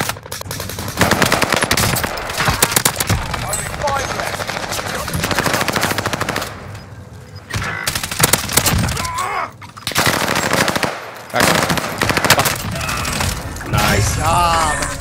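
Rapid automatic gunfire in Call of Duty Vanguard, dense sustained bursts of loud machine-gun shots with brief pauses between volleys, close and continuous across the whole stretch.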